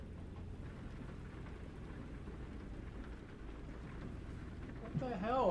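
Steady rain in the American Truck Simulator driving game pours in a dense, constant wash with low rumbling underneath, holding at an even level before a brief louder swell at the end.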